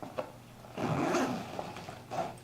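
The zipper on an LA Police Gear Atlas 72 Hour backpack is pulled open in a couple of close, raspy zipping strokes, with a short click and quieter handling rustle between them and no talking.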